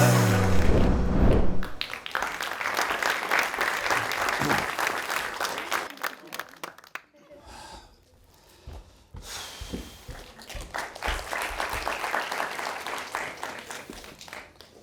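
A studio audience at a comedy sketch show breaks into loud clapping after a brief voice, with a short quiet lull midway before a second burst of sustained applause.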